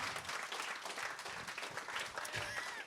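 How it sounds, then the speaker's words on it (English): An audience at a live nurses' comedy show claps for the contestants, a brief, fairly faint spell of steady applause with a voice faintly heard. "Give us a round of applause to all your contestants."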